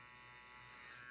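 An electric hair clipper cutting a skin fade gives a faint, steady, even buzz that runs unbroken throughout, with no talking.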